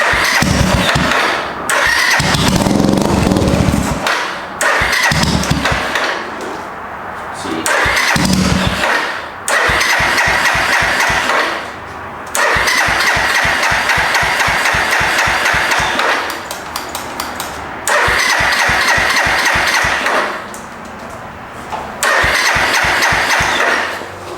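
A previously stolen Suzuki GZ250 motorcycle, freshly primed with fuel, cranks and catches repeatedly, with bursts of rapid engine firing broken by short pauses as it sputters, restarts and revs unevenly, loud and close.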